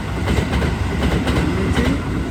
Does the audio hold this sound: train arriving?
yes